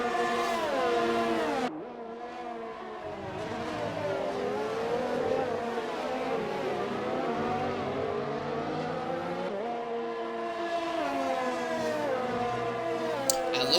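Open-wheel race car engines in a racing video game scream down a straight on the Austria circuit, sustained high revving tones rising and falling through the run, with a sharp gear change near the start and a second car close behind.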